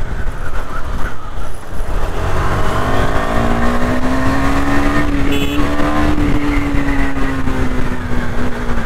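A cruiser motorcycle with twin silencers rides through city streets, its engine holding a steady, loud drone that rises in pitch midway and then eases, close and continuous with no talk over it.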